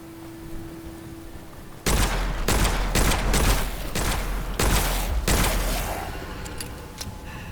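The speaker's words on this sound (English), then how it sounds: "Bastard shooting at me while I'm not even able to see them." Enemy gunfire in the shooter Witchfire, a burst of loud, booming shots arriving in quick irregular volleys after a quieter lead-in, with a few fainter pops trailing off at the end.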